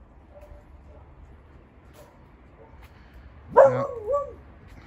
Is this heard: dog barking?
yes